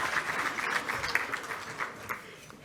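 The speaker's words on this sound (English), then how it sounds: "a round of applause for all of our scholars" An audience at a celebration gala applauds scholars with a fairly soft, continuous patter of many hands clapping, steady for the whole stretch with no voices on top.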